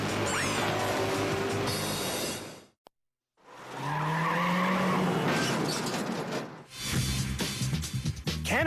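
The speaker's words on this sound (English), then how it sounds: "Canada's worst drivers are showing us that they've learned how to control a skidding J-turn." Car skidding through a J-turn during a driving test, tires squealing loudly in two long screeching bursts broken by a brief gap, with engine noise close by and no talk over it.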